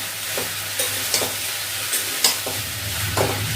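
Potatoes and ridge gourd frying in a pan, a constant loud sizzle with a few sharp spatula stirs and scrapes scattered through, close up and with no voices.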